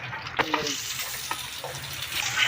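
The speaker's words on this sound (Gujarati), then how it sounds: "2 ચમચી આપણે તેલ, એની અંદર આપણે જીરું અને રાઈ, એની અંદર નાખી દઈશું થોડી આપણે હિંગ, સાંતળી લઈશું" Cumin, mustard seeds and asafoetida sizzling in hot oil in a pan, a steady close hiss with small crackles and a few sharp pops.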